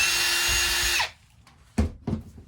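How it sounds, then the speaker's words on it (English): Power screwdriver running steadily at close range for about a second while backing a screw out of the plastic housing of a Dirt Devil Endura Express vacuum, followed by two short handling clunks. "So let me unscrew this screw right there"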